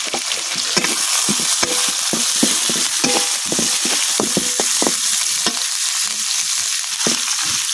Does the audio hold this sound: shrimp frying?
yes